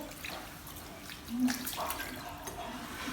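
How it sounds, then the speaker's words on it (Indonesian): Water runs steadily from a tap with a soft splashing hiss, briefly louder as hands are wet under the stream before soaping. "Kemudian basahi tangan dengan air mengalir."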